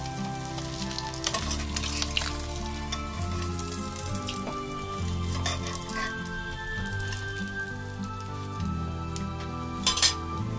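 Koi fish fry in hot oil in a pan with a continuous close sizzle, broken by metal utensil scrapes and clinks as the pieces are turned and lifted out, with no voices.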